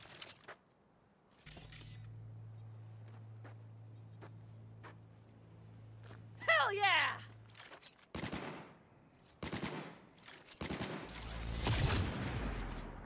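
Gunfire from a gun in Cyberpunk 2077, with scattered sharp shots and a louder burst of fire toward the end, mixed with other game sounds and a sustained low hum early on.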